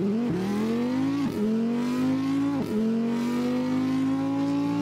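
An Audi RS3 Stage 3 engine in the Assetto Corsa racing game, revving hard and continuously with three quick gear shifts that briefly drop the pitch before it climbs again, loud and close throughout.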